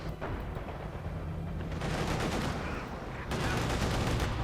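Light machine gun fire rattles in Company of Heroes 2 during a 1v1 match, with sustained rapid bursts mixed with other distant battle noise and fairly quiet throughout.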